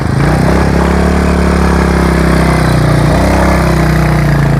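A 350 motorcycle engine runs steadily and loudly close by after crossing a river, with a constant throbbing drone and slight shifts in pitch.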